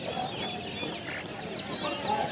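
Constant clucking and chattering of many guinea fowl packed together, steady and near, with no pause throughout, at a market in Ponmalai, Trichy.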